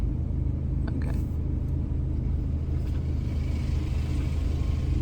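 Continuous low road rumble of cars on a narrow country lane in England's Lake District, steady and fairly loud throughout with a faint brief high tone near the start, no voices.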